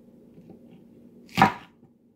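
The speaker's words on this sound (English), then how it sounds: "our spring onion. We just cut out the roots, toss it out, and even into the end of the leaves. And we can cut like that." A single knife cut through spring onion on a board, one short crisp chop over a faint low background hum.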